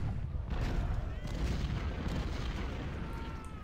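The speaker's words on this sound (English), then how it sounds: "And we're doing okay on the counter battery fire." Steady rumbling cannon fire in the Civil War strategy game Ultimate General Civil War, with dense booms of counter-battery artillery blending into a continuous low roar.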